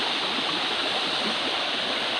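Clear water from a mountain stream in a steep, ravine-lined setting flows steadily with a close, dense rushing wash, continuous and fairly loud with no voices.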